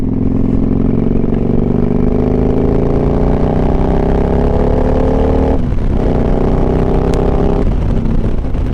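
A pristine motorcycle engine revs loudly and steadily up close, its pitch climbing over several seconds, with a brief drop and a couple of quick throttle blips near the end.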